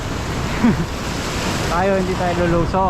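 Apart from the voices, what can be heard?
strong sea waves at the shore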